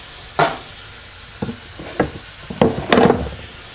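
A spoon scrapes and clacks in a pan while ground meat browns and sizzles for a tamale pie hot dish, giving a handful of sharp, irregular stirring knocks over a soft frying hiss.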